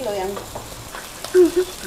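Food sizzling and frying in a wok at a village street noodle stall, a crackling hiss with stirring scrapes and brief louder bursts of sizzle.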